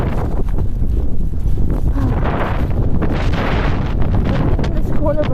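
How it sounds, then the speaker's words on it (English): Strong cold wind buffets the microphone outdoors in freezing conditions, a loud rough rumbling roar that gusts continuously throughout. "Oh Lord, this wind."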